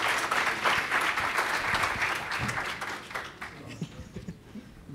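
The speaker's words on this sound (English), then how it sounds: "So I would like you to give a huge round of applause for Manuel, and the stage is yours." A conference audience claps for a European Commission keynote speaker at a summit, with steady, full applause that gradually fades over five seconds. Faint talk and room noise emerge as the clapping dies down.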